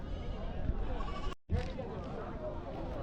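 Goats bleating amid a busy Salem Ayothiapattinam goat market, the calls rising over constant crowd chatter and dense background noise, with a brief dropout midway.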